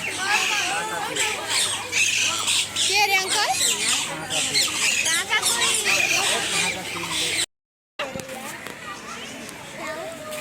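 Birds squawking in a zoo's bird section, with repeated harsh calls mixed into nearby people talking and children's voices, fairly loud throughout.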